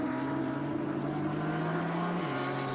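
Porsche race cars in an IGT feature race at the Atlanta SpeedTour roar past on track, a steady loud engine drone with a pitch that drops sharply near the end as a car goes by.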